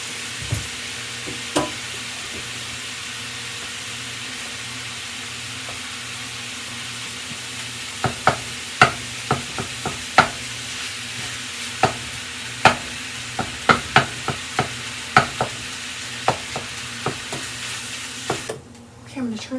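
Eggs scrambling in a hot skillet, a steady close sizzle punctuated by a run of sharp scraping and tapping strokes from a spatula through the middle and end.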